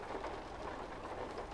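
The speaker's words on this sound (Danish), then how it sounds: "det regner hele tiden, når vi kommer til Danmark" Steady rain in the driving game Euro Truck Simulator 2 while driving through Denmark, a soft, constant patter that continues without a break.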